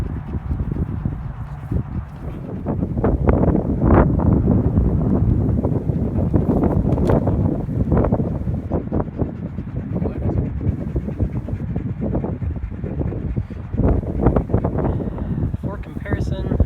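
A headwind at a disc golf field gusts hard across the microphone, producing loud, continuous buffeting rumble with uneven surges and no clear pauses.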